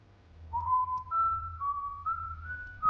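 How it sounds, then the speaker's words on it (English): A slow, drawn-out whistle, one sustained tone sliding gently between a few pitches, close and clear against quiet low rumble. "A man's whistle, not cheerful, not careless."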